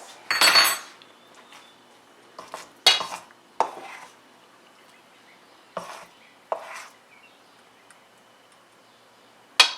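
A small teaspoon scoops and taps pork and potato noodle dough against a small plate, giving sharp metallic clinks and scrapes scattered irregularly across the stretch with quiet gaps between, close by and with no voices.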